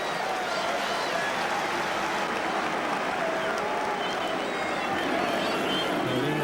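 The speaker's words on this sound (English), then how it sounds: "The England crowd behind the England team, calling for the shove" A rugby crowd at an England v USA Rugby World Cup match roars steadily behind England during a scrum, a broad, constant wall of noise with a commentator talking over it.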